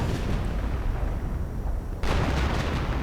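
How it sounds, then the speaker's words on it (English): In a WWII real-time strategy game, a 1v1 match, artillery fire pounds the center of the map: a dense, continuous roar of rumbling blasts, with a fresh burst about two seconds in. "now we're seeing artillery right here on the central area"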